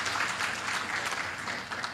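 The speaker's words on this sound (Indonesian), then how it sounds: "Pak Nusron, tepuk tangan untuk beliau." Brief, fairly quiet burst of audience clapping for Minister Pak Nusron at an official land-boundary marking ceremony in Central Java, a steady patter of many hands with no voices.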